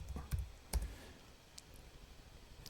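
Typing on a computer keyboard at a desk, a few sharp separate clicks and keystrokes spaced unevenly, quiet and close, with no talk.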